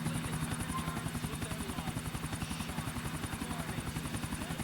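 Helicopter in Grand Theft Auto IV flying close and loud, its steady rapid rotor chop pulsing throughout with a constant high engine whine over it, no talking.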